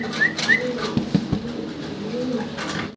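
Fancy pigeons coo softly at close range in a few low, throaty phrases, with faint chirps and background noise and no clear talk.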